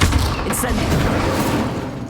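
Incendio fire spell cast in the video game Hogwarts Legacy, a loud, dense burst of crackling, roaring flame with a heavy low rumble that holds steady for about two seconds before easing slightly.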